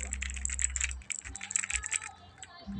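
Someone types on a new computer keyboard, the keys clicking in quick, uneven bursts up close, with faint low background noise underneath.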